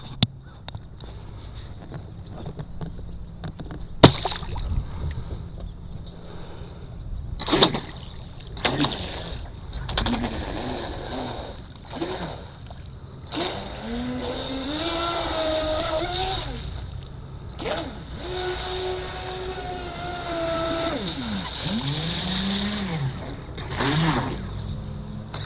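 A ProBoat Recoil 26 deep-V, 3S brushless, self-righting RC boat whines across the water, its motor rising and falling in pitch as it speeds up and turns, with sharp handling knocks early on and steady wind noise underneath.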